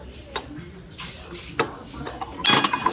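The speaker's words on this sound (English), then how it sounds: "Just a little sugar bowl." A small ceramic sugar bowl is handled at a thrift store, giving a few light clinks and taps, with a brighter cluster of ceramic knocks near the end.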